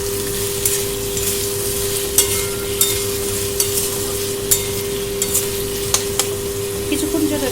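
Vegetables seasoned with salt and turmeric fry in a pan with a steady, close sizzle, punctuated by scattered clicks and scrapes of a stirring utensil; a faint steady hum runs underneath throughout.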